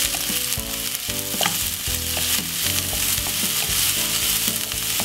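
Onions with garlic and fresh thyme sizzle and fry in a pot, a steady crackling hiss with occasional stirring clinks, no talking.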